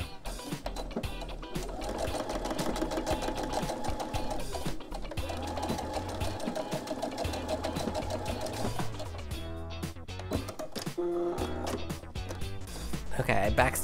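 A sewing machine runs steadily at close range while stitching a quilted pot holder, its rapid mechanical needle chatter shifting in pitch as it backstitches, with a person talking over it.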